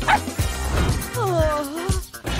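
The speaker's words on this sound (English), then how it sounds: "at least this dog likes her hair." A dog yips and whimpers in a quick run of small barks and whines, close by and moderately loud, with no talk over it.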